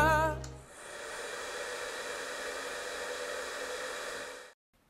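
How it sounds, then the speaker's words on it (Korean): Hair dryer blowing on wrinkled clothes to smooth them, a steady close whooshing hiss that starts after a brief click and cuts off sharply at the end. "드라이기 이꼬르 다리미."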